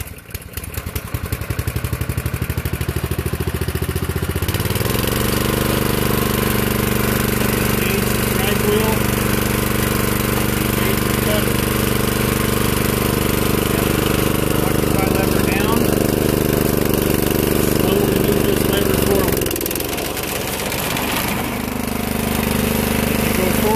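A Ryan Jr. sod cutter's small gasoline engine starts up about five seconds in and runs at a loud, steady idle-like drone close by, briefly dipping near the end before continuing.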